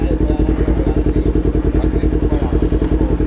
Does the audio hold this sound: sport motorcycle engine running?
yes